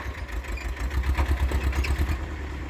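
A tractor stuck while loading silage, its engine running with a rhythmic low chugging throb and light clatter, moderately close, no talk.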